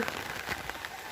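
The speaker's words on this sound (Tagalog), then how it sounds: "Basa sa ulan." Rain pattering steadily on leaves and ground along a mountain trail, a dense soft hiss of drops with a few closer taps, fairly faint, over a short moment.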